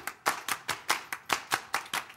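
Sharp, rhythmic hand clapping performed by a percussion ensemble: evenly spaced close claps in a steady repeating pattern, loud and alone with no talk.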